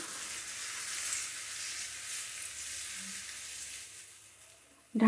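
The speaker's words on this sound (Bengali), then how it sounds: "ভালো করে মিশিয়ে নিচ্ছি।" Egg korma sizzles steadily in a pan as it is stirred after milk is added, a continuous close frying hiss with faint scraping and no talk.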